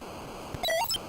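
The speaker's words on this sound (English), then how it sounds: "that's the sound of a human being abducted" Brief electronic video game effect for a human being abducted: a short warbling rising synth blip with quick high chirps, faint and over a soft hiss, lasting under half a second.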